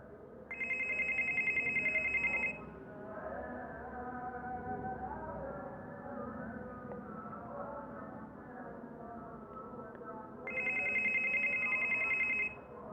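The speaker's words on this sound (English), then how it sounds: "the application will stop ringing after a while" An old Android phone running a tracker app rings with a steady electronic tone in two bursts of about two seconds each, separated by a long gap filled with low rumbling background noise.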